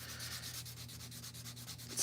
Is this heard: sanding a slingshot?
yes